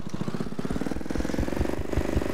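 A 1970s-era lawn tractor engine in a modded driving video game, a steady buzzing drone with rapid rhythmic pulsing throughout, loud and alone.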